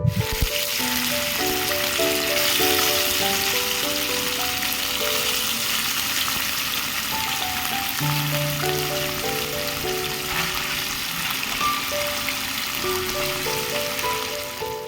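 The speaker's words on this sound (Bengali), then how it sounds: "আমি দুবার করে দিয়ে মাছগুলোকে ভাজবো" Small mourola fish frying in hot mustard oil in a wok, a dense steady crackle and sizzle throughout, with a melodic tune playing over it.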